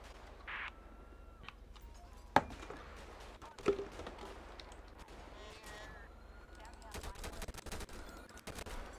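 Gunfire in GTA V with the LSPDFR police mod during an active-shooter call at a theater: a sharp shot near the start, another a second later, then a rapid cluster of shots toward the end, over steady game ambience.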